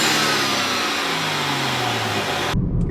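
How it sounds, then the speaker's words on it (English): A 2014 BMW 335i xDrive M-Sport fitted with a Burger Tuning intake and JB4 tune, its engine revving with a steady swishy induction roar that cuts off abruptly near the end. "You can hear the induction noise."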